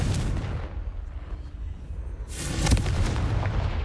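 A Confringo blasting spell explodes in the Hogwarts Legacy video game: a rough, booming burst with rumbling debris, a quieter lull, then a second sharp blast and rumble, loud and close, with no speech.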